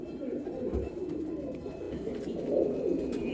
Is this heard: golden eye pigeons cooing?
yes